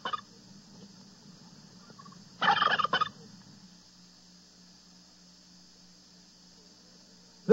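A turkey gobbles in a rural barnyard in one loud burst of about half a second, with a quiet, steady background before and after and a brief sharp sound at the very end.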